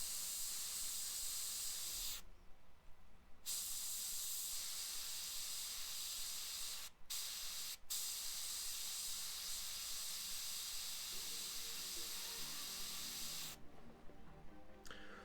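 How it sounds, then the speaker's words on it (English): Airbrush spraying paint at very low pressure close to a Kingdom Death miniature: a steady, loud hiss running in long bursts, cutting off briefly between passes. "I'm spraying at very low PSI"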